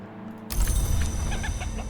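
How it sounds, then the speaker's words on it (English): Hen clucking in the video game Book of Hours, a few soft, clipped clucks that begin abruptly after a quiet start, set over a muffled low-frequency rumble. "Cluck, cluck."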